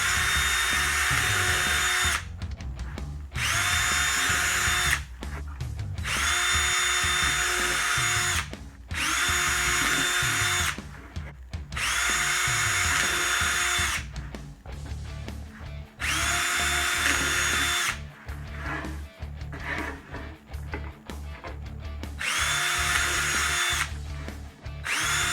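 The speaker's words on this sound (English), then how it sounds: "drill some holes so that we can put on the brackets" Power drill boring holes in wood for RC car trailer brackets, running in about seven loud, steady bursts of a few seconds each, separated by short pauses.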